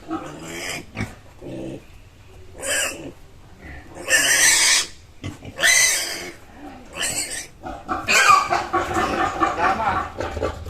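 Native pigs, breeding sows, grunt and squeal in loud, ragged bursts separated by short pauses, close at hand, with some snorting growls between.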